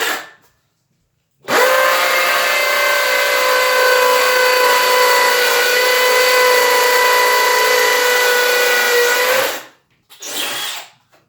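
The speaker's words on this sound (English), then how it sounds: "now I'll just drill the rest of my holes with the board on there" A power drill bores pocket holes through a board held in a Kreg pocket hole jig, one loud, steady whining run of about eight seconds that stops abruptly, followed by a short second burst.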